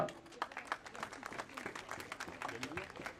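An audience claps to welcome speaker Yasir Ali Jazwa at a Barabari Party Pakistan members' convention in Lahore. The applause is moderately loud and irregular, with scattered claps and voices mixed in.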